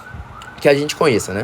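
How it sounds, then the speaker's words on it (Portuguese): An ambulance siren passes outside, a steady, faint wail in the background while a nearby voice talks over it. "É uma ambulância"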